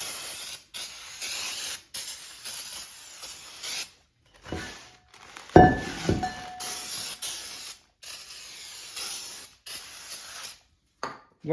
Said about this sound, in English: if you want to be sure, just clean it off with a brake clean.